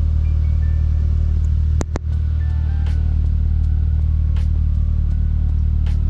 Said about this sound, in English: I have to warm up the car to make sure that the temperature gauge is working